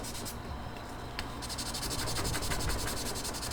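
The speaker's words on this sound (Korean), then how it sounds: "평면인 부품을 작업해 줄 때는 이 스틱 사포로 문질러 봐야 됩니다" Stick sandpaper rubbed back and forth across a flat plastic model kit part, a soft continuous scratchy abrasion with steady close strokes and no voices.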